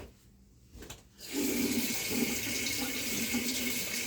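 Running water from a tap pours steadily to wet a makeup spoolie brush, starting after a second of near quiet and continuing as a constant close hiss and splash with no talk.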